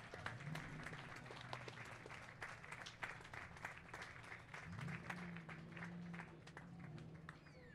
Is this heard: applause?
yes